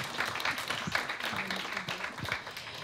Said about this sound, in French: Venez nous rejoindre, Monsieur Moreno, sous vos applaudissements, c'est possible.